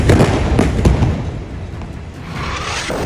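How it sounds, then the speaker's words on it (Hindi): Missile and shell explosions in Gaza during an Israeli bombardment, heard as a loud continuous rumbling roar of blasts with dense booming bursts throughout, with no voices. "मिसाइल धमाके पहले की तरह हो रहे थे।"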